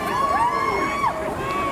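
A street crowd of protesters cheers and yells up close, with loud whoops and high shouts rising and falling over a dense, continuous roar.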